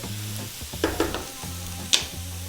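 Mixed vegetables for Indian veggie fried rice sizzle in a pan over just-above-medium heat while being stirred, with a steady hiss broken by a few scraping clinks of the utensil against the pan.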